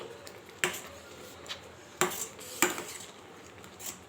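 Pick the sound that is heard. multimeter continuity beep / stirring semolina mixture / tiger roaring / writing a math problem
stirring semolina mixture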